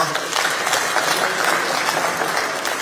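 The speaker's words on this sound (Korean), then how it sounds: "박수 한번 부탁드리겠습니다" Steady applause fills a Democratic Party caucus meeting room as lawmakers clap together, a dense, even wash of hand claps holding at a constant level for nearly three seconds, close and fairly loud.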